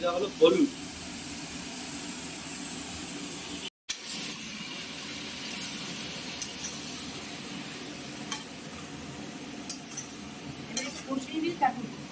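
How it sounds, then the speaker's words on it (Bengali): Spinach and mixed vegetables with lentil dumplings fry in a pan as a utensil stirs them, giving a low steady sizzle with scattered scrapes and metallic clinks, fairly quiet throughout. "কিছুক্ষণ কিন্তু ভাজা ভাজা করে নিতে হবে মানে কষিয়ে নেওয়া আর কি"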